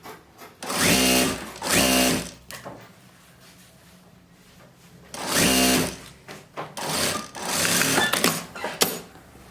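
Sewing machine stitching dish towel fabric, several short motor runs with a steady rhythmic needle chatter separated by quiet handling pauses, close and fairly loud.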